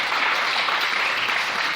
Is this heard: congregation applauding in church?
yes